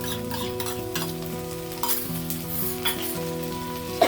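Onions, ginger-garlic paste and tomato frying in a pan for pumpkin curry, a steady sizzle broken by repeated stirring scrapes and light metal clinks, with no talking.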